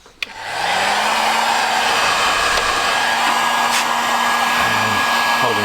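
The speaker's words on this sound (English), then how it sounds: "now we can take our heat gun" A heat gun on its lowest setting blows steadily over wiring on a classic Fiat 500, clicking on and settling into a loud, constant whooshing drone close by.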